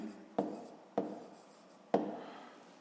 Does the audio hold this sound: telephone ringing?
no